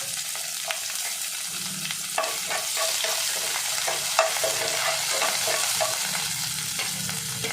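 Cinnamon, cardamom, cloves, a green chilli and about ten shallots fry in coconut oil, giving a continuous close sizzle punctuated by spatula taps and stirring knocks, with no talk.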